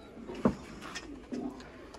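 Sialkoti pigeons coo faintly in short, soft throaty bursts, a couple of calls rising briefly over a quiet background.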